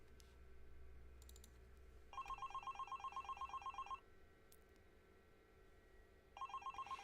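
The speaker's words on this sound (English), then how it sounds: "The same cell phone is ringing" A cell phone rings in two bursts of rapid, trilling electronic tones with a pause between them, clear and close in a quiet room, with faint clicks before the first ring.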